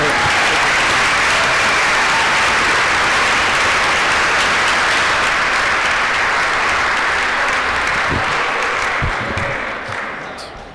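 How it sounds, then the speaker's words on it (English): An audience gives sustained applause for a high school chorale at a Student Government Day gathering, a thick continuous wash of clapping that stays full for several seconds, then thins and fades near the end. "maybe if we can give a nice round of applause for our Peabody High School chorale"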